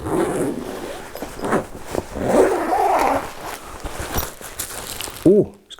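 A guitar gig bag holding a vintage Les Paul has its zipper pulled open in several quick rasping strokes, close and clear, with a short vocal sound at the end.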